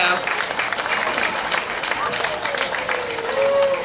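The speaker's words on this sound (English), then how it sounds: "Please give these ladies a round of applause." Crowd applause at a Monroe Area pep rally for cheerleaders, a dense wash of clapping and cheering from many people close by, lasting throughout.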